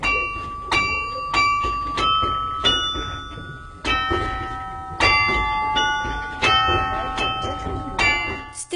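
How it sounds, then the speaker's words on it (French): Carillon bells in the Douai belfry ring out in a bright melodic sequence of struck notes with long ringing overtones, loud and resonant, during a town festival. "Le carillon est entendu dans toute la ville"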